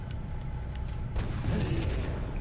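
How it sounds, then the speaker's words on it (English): Viper vehicle explosion in the Halo CE video game, a dense rumbling boom that surges midway and rolls on as a broad, sustained blast with no talk over it. "Bam! Look at that explosion."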